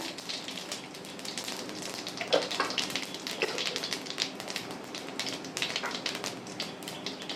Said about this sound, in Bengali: শুকনো লঙ্কা মৌরি আর তেজপাতা ফোড়ন দিয়ে দিলাম বন্ধুরা